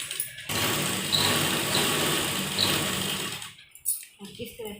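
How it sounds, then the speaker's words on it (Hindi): Sewing machine running steadily while stitching a double seam on kurti fabric, a loud continuous mechanical whir for several seconds that stops abruptly near the end, followed by faint handling sounds. "फ्रेंड्स हम ये डबल सिलाई लगाएंगे यहाँ पर भी"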